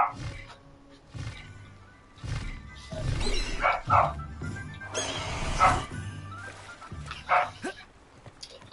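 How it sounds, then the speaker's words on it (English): A dog in the Hogwarts Legacy game barks and growls repeatedly in loud, rough bursts with gaps between them, mixed with deep snarling animal roars over a quiet game background. "I swear if they don't stop making that dog bark,"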